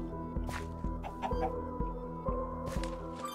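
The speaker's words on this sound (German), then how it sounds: "Und gacker mich nicht so an" Chicken clucking in the video game Minecraft, a few short clucks over a steady rhythmic game soundtrack and low ambient pulses, with no talk.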